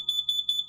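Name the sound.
carbon monoxide and smoke alarm sounding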